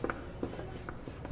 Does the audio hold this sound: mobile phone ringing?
yes